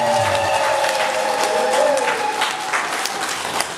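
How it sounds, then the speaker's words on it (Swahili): Clapping from a church congregation at a Moravian worship service, with ululation and voices mixed into steady, dense applause that fills the room for a few seconds. "mpe Yesu makofi mengi mengi na vigelegele"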